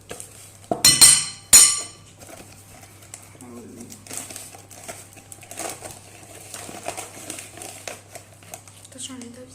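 A spoon scrapes and clinks against a glass bowl while mixing cake ingredients, including cocoa, with a few sharp clatters at the start and softer, scattered stirring sounds afterward, close and under a voice talking in a kitchen.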